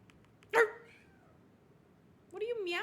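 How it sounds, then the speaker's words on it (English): A cat meows twice in a quiet room: a short, sharp call, then a longer, rising and falling one a couple of seconds later. "What are you meowing about?"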